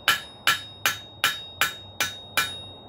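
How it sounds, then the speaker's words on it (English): A hammer planishes hot 5/8-inch steel round bar on an anvil, seven evenly spaced, ringing metallic strikes close up with nothing else in between. "planishing is knocking the lumps down and kind of refining the surface condition of your piece"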